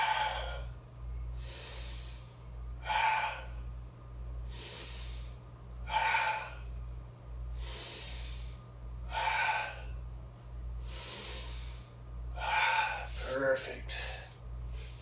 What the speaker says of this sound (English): 5 deep breaths.